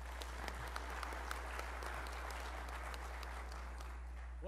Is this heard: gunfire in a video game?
no